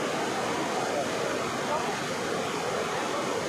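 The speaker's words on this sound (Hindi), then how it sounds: "जिसको ये कैंपटी फॉल कहते हैं।" Kempty Falls waterfall pours with a dense, continuous roar of falling water. The sound is loud and unbroken, with no change across the whole stretch.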